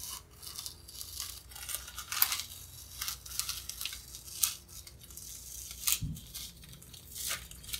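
Masking tape torn and peeled off a painted surface, a string of close, sharp ripping and crinkling bursts at irregular intervals, with no speech.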